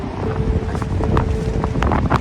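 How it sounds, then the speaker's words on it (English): Steady gusty wind buffets the microphone outdoors on the water by a canoe, a dense low roar with faint water sounds beneath, continuous for a couple of seconds. "Alright, here comes some wind."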